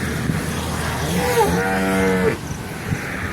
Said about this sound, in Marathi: इकडे एक छोटंसं वासरू आहे आणि इकडे विरूला बांधलं